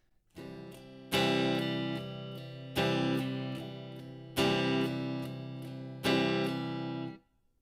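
Guitar chords strummed alone in a slow pattern, with a softer strum followed by four strong accented strums that ring out between hits.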